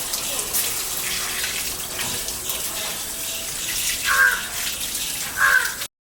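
Tap water running steadily into a sink while a face is being washed, with a continuous close splashing and two brief louder surges near the end before it stops.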